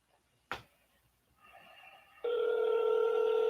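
A telephone on an outgoing call: a click, then a faint tone, then a loud steady ringback tone, near and alone with no talk.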